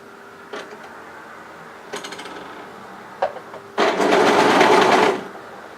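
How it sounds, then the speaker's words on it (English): An overlocker sews a sleeve seam into a dress: a few short stitching taps, then a sustained whirring run of the machine for over a second, close and loud. "if you're comfortable you can sew that straight on your overlocker"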